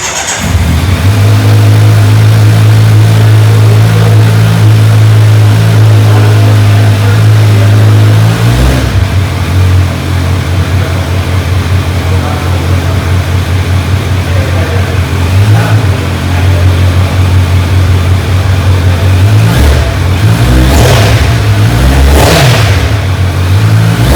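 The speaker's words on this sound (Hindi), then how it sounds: "और अब मैं सुनाता हूँ आपको Z900 2025 की स्टॉक एग्जॉस्ट साउंड।" A 2025 Kawasaki Z900 motorcycle with stock exhaust idles steadily and loudly, then is revved in several sharp bursts toward the end, close by with no talking.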